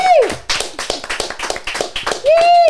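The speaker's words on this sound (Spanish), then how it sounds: "Y por favor, también la gente del estudio, le da un gran aplauso a Belkis y a Katy." A studio audience on a podcast set gives loud, quick clapping, close and crisp, with a sliding whistle-like tone at the start and again at the end.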